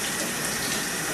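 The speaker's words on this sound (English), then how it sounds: "so you turn on the water" Tap water gushes steadily to fill a bath for washing a cat, a continuous close, even hiss of running water with no voices over it.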